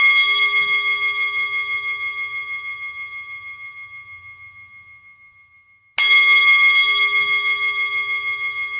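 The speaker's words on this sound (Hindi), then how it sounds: "जैसे ही घंट नाद होता है, उसके प्रकंपन आपके हृदय पर शुरू हो जाते हैं।" A meditation bell is struck once and rings out with a long, clear, slowly fading tone, then is struck again and rings on, loud and alone in quiet.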